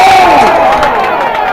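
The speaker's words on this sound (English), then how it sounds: "Crowd really getting into this one as things are picking up." Loud crowd cheering and shouting at a quidditch match, an excited burst of voices that starts strong and gradually fades.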